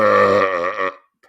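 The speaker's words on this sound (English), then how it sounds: "That must be in reference to a belch" A long, loud, voiced belch rumbles for nearly a second, then trails off into quiet with a faint brief sound at the end; no speech.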